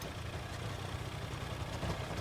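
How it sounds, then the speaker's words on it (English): A car engine sound effect idles at low volume, a steady rumbling drone throughout with no talk. "Yeah, like a car engine."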